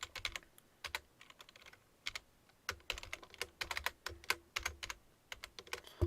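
Rapid bursts of keystrokes on a computer keyboard while entering a width value in jQuery code, irregular clusters of close, crisp clicks with brief pauses between runs.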